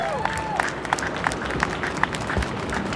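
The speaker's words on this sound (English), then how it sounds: "another round of applause for these peer mentors because we can't do it without them" An audience at a student achievement celebration applauds peer mentors, with dense, steady clapping throughout and a few sharper individual claps standing out.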